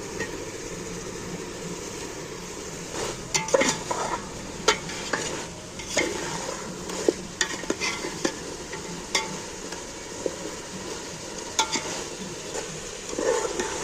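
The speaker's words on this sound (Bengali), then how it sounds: "আলু মাংস কষানা কিন্তু আমার হয়ে গেছে মশলা দিয়ে তেলও ছেড়ে দিয়েছে" Potatoes and chicken pieces frying with spices in oil as they are stirred, giving a steady close sizzle broken by repeated sharp scraping and clacking strokes of a spatula, with no talk.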